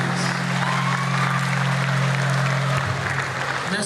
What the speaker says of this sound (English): I think he deserves a better applause.